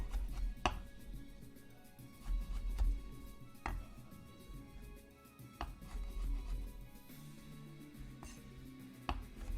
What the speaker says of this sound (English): I'm just kind of shoving a pile of rosemary at my knife as I keep slicing down